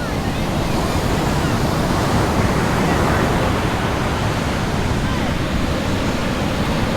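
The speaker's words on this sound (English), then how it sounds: "And the biggest waves are actually out there, right out there, far out. You have really big waves." Ocean surf at Sunset Beach on Oahu's North Shore, with big waves crashing and roaring continuously, loud and close, as a dense wash of water with no voices.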